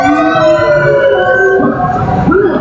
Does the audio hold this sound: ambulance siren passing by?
yes